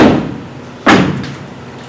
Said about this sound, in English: The bedroom door slowly opened.